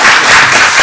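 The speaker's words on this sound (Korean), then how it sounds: "두 분에게 박수를 좀 보내주시기 바랍니다." Audience applause closing an academic seminar, a steady broadband wash of clapping throughout the short moment with no talk over it.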